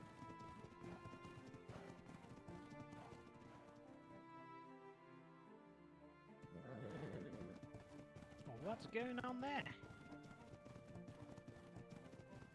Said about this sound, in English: Buttload of horses